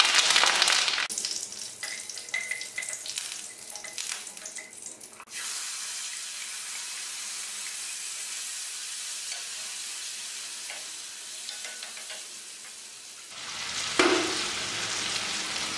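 A sharp sizzle of curry leaves dropped into hot oil with dal for pepper tamarind curry, then steady frying crackle, followed by a louder rush as water is poured in.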